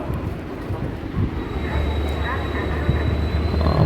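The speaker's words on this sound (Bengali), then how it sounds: "হাওড়া এসএনভিটি সুপারফাস্ট এক্সপ্রেস এসে ঢুকলো" The Howrah–SMVT Bengaluru Superfast Express rumbles steadily as it rolls into Howrah station at night, a low heavy drone with a faint high whine above it and indistinct voices under the noise.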